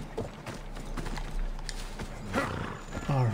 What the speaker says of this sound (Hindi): ये मेरा घोड़ा है।